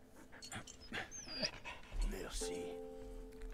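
A dog pants in the World War I video game Valiant Hearts: The Great War, with quick breathy panting and a few whimpers mixed among other game sounds, ending in a low sustained tone.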